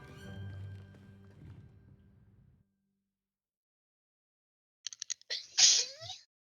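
A character sneezes in the Hogwarts Legacy video game, a sharp, close burst followed by a brief breathy trail, coming right after some quieter low background sound and a stretch of silence.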